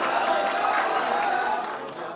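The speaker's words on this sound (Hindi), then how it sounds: "एक बार तालियां बजाकर मुझे बता दें।" Audience at a poetry recital at a medical college clapping briefly, a short burst of crowd applause with murmuring voices, fading slightly at the end.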